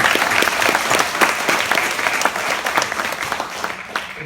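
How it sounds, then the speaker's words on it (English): Dense, steady applause from a large luncheon audience in San Diego celebrating students, loud and close, holding evenly for several seconds before easing slightly at the end. "can we get a rousing round of applause for all of the students that are being celebrated"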